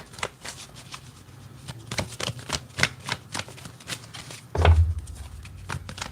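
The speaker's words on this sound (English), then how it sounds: "Let me get three good shuffles here." Tarot cards being shuffled by hand in a series of short, crisp riffles and taps, close up, with one heavier thump partway through.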